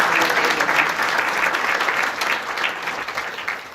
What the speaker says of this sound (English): So let's give GCTV and FCAT just one more round of applause for all of us